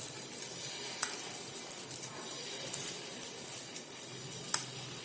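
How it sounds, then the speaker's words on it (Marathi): Moong dal chilla batter sizzling on a hot pan, a steady soft hiss of frying with a few light clicks and scrapes of a utensil against the pan, fairly faint and close, with no talking. "पॅन व्यवस्थित गरम झाला आता याच्यामध्ये आपण सारण टाकून घेऊया"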